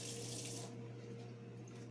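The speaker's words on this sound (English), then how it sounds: "Let me just rinse the spoon off real quick." Tap water runs steadily into a kitchen sink as a spoon is rinsed, a broad splashing rush for the first part that eases into a softer, quieter trickle, with no talking.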